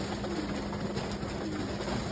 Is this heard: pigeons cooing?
yes